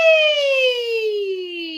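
A singer's voice performs a siren exercise on an 'E' vowel: one smooth, clear, close tone gliding steadily downward for about two seconds, imitating a siren.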